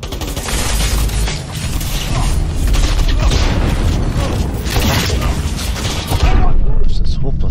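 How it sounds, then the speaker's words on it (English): Heavy gunfire rattles through a firefight in the video game Cyberpunk, with dense overlapping shots and booms forming a loud, continuous barrage throughout. "This is hopeless. It's too much gunfire."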